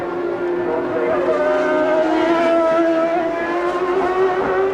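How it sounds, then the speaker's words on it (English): Gerhard Berger's Ferrari Formula 1 car at the 1994 German Grand Prix screams through the Ostkurve, its high engine note holding steady with slight pitch shifts, loud and continuous under faint crowd or commentary ambience. "There's another look at Gerhard Berger's Ferrari in action in the Ostkurve"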